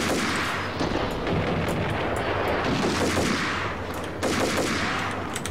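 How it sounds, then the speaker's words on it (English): Sustained machine-gun fire from a van's built-in gun in the video game Max Payne, a loud continuous rattling barrage with booming impacts filling the whole stretch, no talking over it. "That van has like a fucking built-in machine gun."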